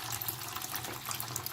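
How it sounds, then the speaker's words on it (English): Water pouring into a bucket to soak a dried cocoa fibre brick, a steady close splashing rush for a brief moment. "All you do is fill it up with some water in a bucket."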